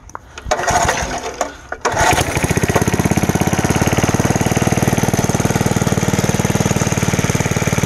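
The engine of a 1961 Porter Cable #98 rototiller being started: a few pulls and sputters, then it fires and settles into a loud, steady, close-up chugging run.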